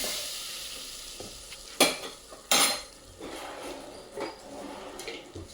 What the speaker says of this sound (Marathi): बटर आपलं अजून मेल्ट झालेलं नाही, तोपर्यंत आपण चाळत राहायचं आहे.